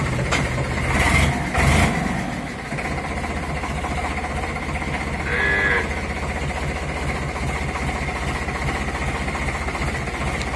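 Tractor engine running steadily at idle on a village farm as it is being moved out, a continuous low mechanical rumble with a couple of louder bursts early on and a brief rise near the middle.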